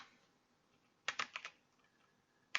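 Someone types code on a computer keyboard: a quick, faint cluster of four or five key clicks, a pause, then one more tap in an otherwise quiet room.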